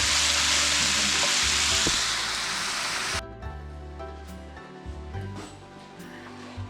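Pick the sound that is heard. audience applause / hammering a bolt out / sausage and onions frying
sausage and onions frying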